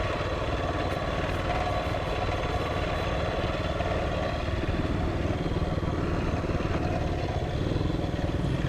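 A DIY lawn mower engine runs steadily while cutting dense, tightly woven grass in a palm plantation, a continuous close mechanical drone with rattling clatter and no talking.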